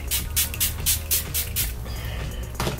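Setting spray is misted onto a face in a string of short, close hissing bursts, about six quick pumps in a row followed by one final spritz after a brief pause.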